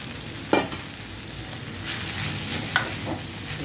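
Rice stirred and mixed in a frying pan, with a soft steady sizzle and a few scraping clatters of a spoon against the pan near the start and middle, no voices.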